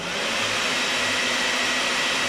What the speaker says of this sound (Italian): andiamo ad accendere il nostro asciugacapelli a potenza